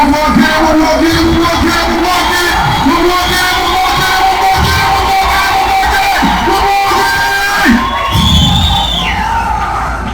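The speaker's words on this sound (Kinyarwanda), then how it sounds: "nasabye umukomera amashyi menshi cyane amashyi mumwongere yandi mashyi mukomera amashyi menshi cyane" Crowd at a film launch event cheering, whooping and yelling loudly and continuously, with a dense roar of voices; an announcer's voice is heard over the crowd.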